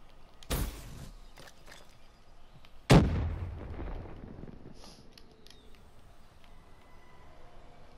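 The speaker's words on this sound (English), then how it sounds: "I just threw a frag over there." A frag grenade detonates in a Call of Duty: Black Ops III match, a loud close blast with a rumbling tail, preceded by an earlier sharp gunshot-like crack and followed by faint game ambience.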